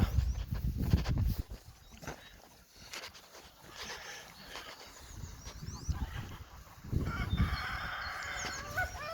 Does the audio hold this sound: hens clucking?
yes